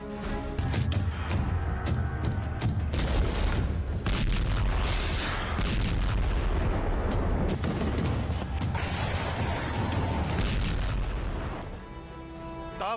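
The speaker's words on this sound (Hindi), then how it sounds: "जोरदार धमाके" Loud, continuous barrage of explosions and artillery fire from the Russia-Ukraine war, with heavy booms and bursts following one another almost without pause throughout.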